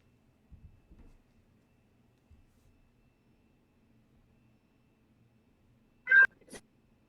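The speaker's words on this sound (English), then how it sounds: "Oh, I hear a kitty. I hear the kitty." A cat meows once, a short faint call near the end of a mostly quiet stretch, followed by a second brief sound, with a few soft thumps earlier.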